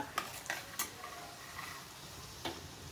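Dry fruits frying in a pan for a sweet semolina offering, a quiet sizzle beneath a few sharp spatula taps against the metal, close and brief with no talking.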